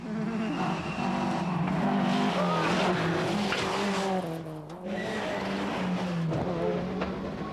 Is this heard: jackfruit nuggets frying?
no